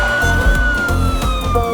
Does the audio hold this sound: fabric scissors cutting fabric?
no